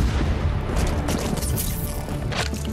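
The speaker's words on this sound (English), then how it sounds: "Who threw a grenade at me?" A grenade blast in the Call of Duty: Black Ops 3 shooter, a loud sustained rumble among game gunfire and explosion noise with no talking.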